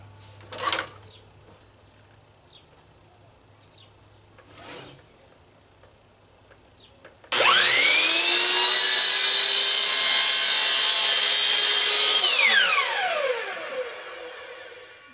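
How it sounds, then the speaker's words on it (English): A power saw trims the edge of a wooden clipboard to square it up: faint bumps and handling noise first, then a loud, sustained whining cut that starts abruptly, runs steadily for about five seconds and winds down as the blade slows. "I'm going to go over to the saw, and I'm just going to skim that off and square this up"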